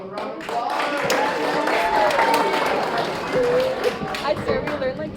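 Audience applause right after a junior high and high school choir performance, a steady, dense wash of clapping that holds for several seconds with crowd murmur mixed in.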